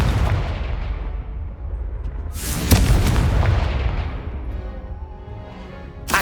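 Fiery blast of the Confringo explosion spell in the Hogwarts Legacy video game: a loud burst near the middle, with crackling and rumbling that slowly fade over a continuous game soundscape.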